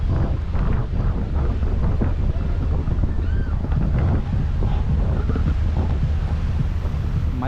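A boat cruising past mountains at Musandam, Oman, with a constant loud rumble of engine, wind buffeting the microphone and rushing water throughout, with no voices.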